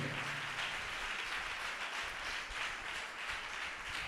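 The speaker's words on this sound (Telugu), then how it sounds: "చప్పట్లు కొట్టండి గట్టిగా." A Sunday service congregation at Hosanna church in Chennai claps together in a steady, even wash of applause that sounds faint and distant, with no talking over it.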